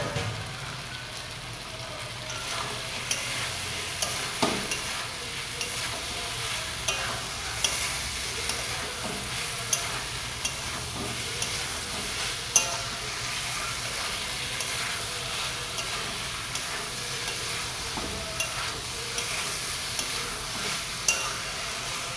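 Paneer and peas frying in a pan for a chana paneer curry give a steady close sizzle, with irregular spoon scrapes and clinks against the pan as the pieces are stirred, and no voices.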